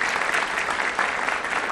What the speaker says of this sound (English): Let's applaud those people.